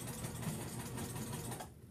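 A sewing machine stitching a fabric beer koozie, a quiet, steady rapid whirr and needle pulse running for under two seconds before stopping abruptly.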